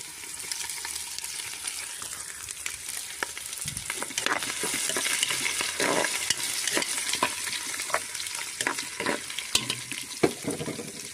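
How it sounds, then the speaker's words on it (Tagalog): Garlic, onion and ginger are sautéed for a Filipino nilaga soup, with a steady close sizzle and repeated scraping strokes as the ingredients are stirred, continuing for about eleven seconds with no one talking. "Igigisa ko pa rin yan maski nilaga. Bawang, sibuyas, luya."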